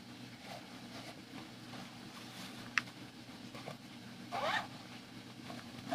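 A jacket zipper is tugged and pulled in a quiet setting, giving a couple of short, faint rasping bursts over low background noise.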